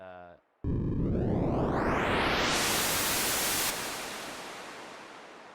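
A loud wash of white noise from the Native Instruments Massive synthesizer sweeps upward in brightness, then holds and slowly fades with a reverberant tail. No talking.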